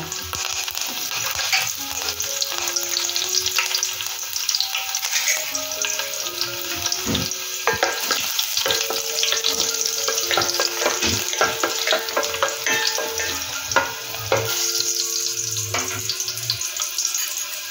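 Crushed garlic and curry leaves frying in hot oil for a mango raita tempering, a loud steady close sizzle with crackling pops and occasional utensil clinks, no talking.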